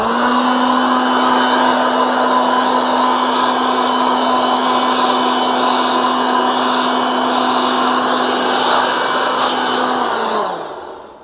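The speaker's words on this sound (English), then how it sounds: "What y'all know about this snow blower, man? It'll clear a path." A Toro Super Blower clearing snow off a car makes a loud, steady electric roar with a whining hum that runs unbroken for about ten seconds before winding down.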